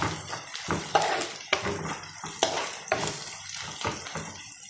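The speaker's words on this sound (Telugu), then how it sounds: "గుండెకాయలు ముక్కనికాయలు వేయించుతున్నాను" Gizzard pieces fry in a pan and are stirred, giving repeated scraping, clattering stirs about once a second over a steady sizzle, close and fairly loud with no talking.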